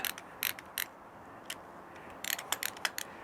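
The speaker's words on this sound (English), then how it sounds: "Some ratchet, this one ratchets." A ratchet handle turning a tap while drilling a motorcycle frame for a Honda CRF450L rally kit install gives short bursts of rapid clicking. The clicks come in quick close groups separated by pauses, fairly faint and alone.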